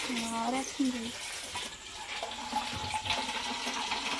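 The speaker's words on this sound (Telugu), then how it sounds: "ఇప్పుడు వాటర్ పట్టకపోతే మాకు వాటర్ ఉండదు నైట్కి" Water gushes steadily from a tap into a container during filling, a continuous close splashing rush with a voice speaking briefly near the start.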